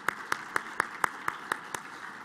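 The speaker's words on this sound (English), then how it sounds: "So another huge round of applause for all three of our panelists." Eight evenly spaced single hand claps ring out clearly at a steady rhythm for panelists at an economic forecast breakfast, sounding like one or a few people clapping rather than a full crowd.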